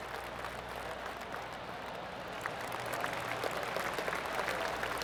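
A polite golf clap from a video game gallery, steady and moderate, swelling slightly toward the end.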